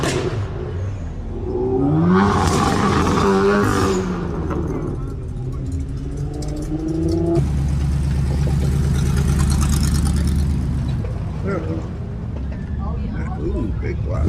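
A big block V8 in a Coronet muscle car idles at a car show, a deep, uneven rumble that swells and settles while people talk nearby.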